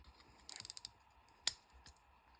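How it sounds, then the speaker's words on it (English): A 6mm socket wrench ratchets in a quick run of small clicks, then gives one louder click and a faint tick while removing the main jet from the carburetor of a 1993 Polaris Indy XLT snowmobile. Close and quiet, with no talking. "I'm definitely just going to put a socket on it just to be safe, and that is a 6mm socket"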